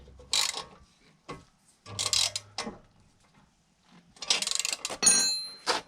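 Ratchet wrench tightening the bolt and nut on a BMW F20/F30 suspension carrier while fitting Eibach lowering springs, heard as several separate bursts of rapid clicking, close and fairly loud, with short pauses between strokes.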